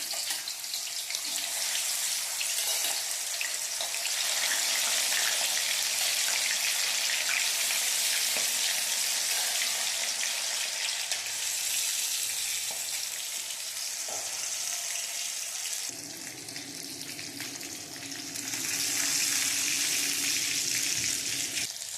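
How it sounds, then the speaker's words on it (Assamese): Fish frying in hot oil in an Assamese kerahi wok, a steady, loud, hissing sizzle that runs on without pause and shifts slightly in tone toward the end. "তেলখিনি গৰম হ'ল, এতিয়া মাছখিনি ফ্ৰাই কৰোঁ"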